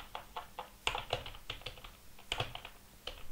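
Keys clatter on a computer keyboard as a search is typed in, in quick bursts of quiet, close keystrokes separated by short pauses.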